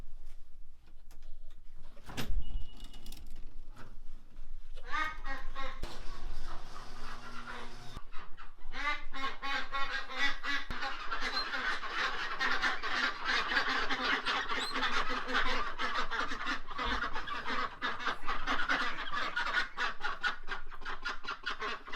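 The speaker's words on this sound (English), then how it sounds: "These ducks are going crazy for the cicadas." Several ducks feeding on cicadas quack in a busy, overlapping chorus that runs almost the whole time, close by, with some rustling and splashing underneath.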